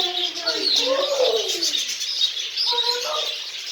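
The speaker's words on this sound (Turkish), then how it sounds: "Bunlar da sarı ve kırmızı alımlı Amazon papağanı diyor." African grey and yellow-and-red Amazon parrots call in a bird garden, with loud, close whistling squawks in two bursts separated by a short lull.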